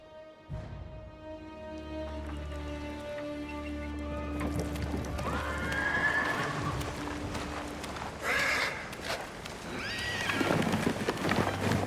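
A horse whinnies in Ghost of Tsushima, then hooves clip-clop at a trot, with rustling and clanking of horse armor around them.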